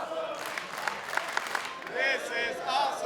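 A capacity arena crowd in Las Vegas cheers and applauds during a professional wrestling match, a roaring swell that rises near the end while a commentator keeps talking over it.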